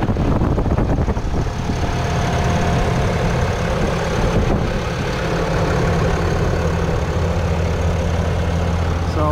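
A 2024 Ram Laramie with the Cummins turbo diesel engine idles steadily up close, a loud, even low rumble that holds throughout with no talk.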